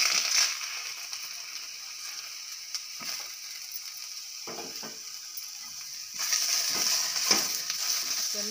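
Onions, ginger and spices frying in oil for Karnataka-style moringa leaf dal (nuggesoppu tovve), a steady close hiss with occasional scraping stirs and clinks, swelling louder near the end.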